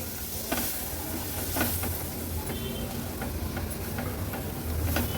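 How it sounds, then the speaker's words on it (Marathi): Turmeric and homemade Agri Koli masala sautéing in hot oil, giving a continuous hiss and crackle with faint clicks of stirring. "हळद आणि मसाला पण तेलावर छानसा असा परतून घ्यायचा आहे।"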